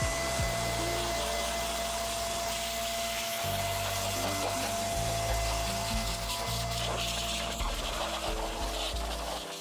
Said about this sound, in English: let's start off with the X Power blower.